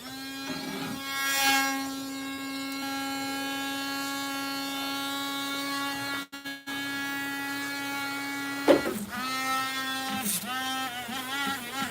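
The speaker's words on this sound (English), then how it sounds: "we're gonna try to sand it here" A small electric rotary tool with a toolless chuck hums at a steady high pitch while sanding a handmade item, with brief scraping contact bursts and pitch dips as it bears on the piece, no speech.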